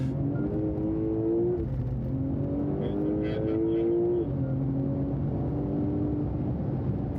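A safety car runs high-speed test laps on a racing circuit, its engine droning steadily and shifting pitch as it accelerates and settles, a continuous mid-distance whine.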